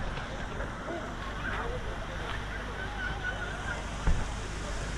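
Waterfall at Kolli Hills viewed from above, a steady broad rush of falling water with misty wind, continuous and fairly even throughout, with a brief thump near the end.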